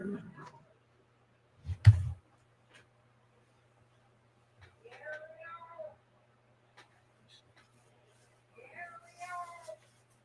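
A cat meows in a film soundtrack, a few drawn-out, wavering meows spaced apart over quiet background, with a low hum and a brief thump early on.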